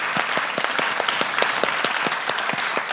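Audience applause at the close of a conference at a congress centre, a steady patter of many hands clapping throughout, moderately loud with no voices.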